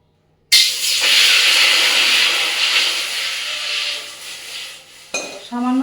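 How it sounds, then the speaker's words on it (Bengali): Water hits a hot wok with a sudden loud, steady hiss that sizzles for several seconds, then fades as a voice briefly starts at the end. "কড়াইয়ের মধ্যে আগে জল দিয়ে দেবো"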